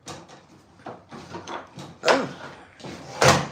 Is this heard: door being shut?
yes